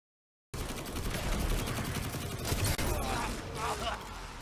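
Sniper rifle gunfire in a first-person shooter game, sharp reports cutting through a dense, busy mix of other weapon fire and effects, with voices talking over the action.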